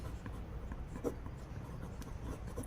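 Pen writing out a Class 10 math solution on paper, a close, faint scratching and rubbing with short strokes and taps, steady and soft, with no talking.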